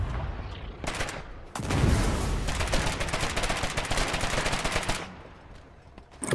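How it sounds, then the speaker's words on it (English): Rapid bursts of automatic gunfire in the video game Foxhole, loud dense volleys that rattle almost continuously for several seconds before easing off at the end. "Just keep shooting at it."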